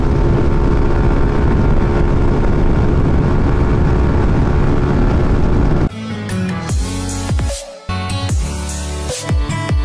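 Yamaha NMAX V2 scooter with a JVT exhaust pipe on mid setting, its engine note loud and steady for about six seconds before breaking into choppy, uneven bursts and a brief dropout.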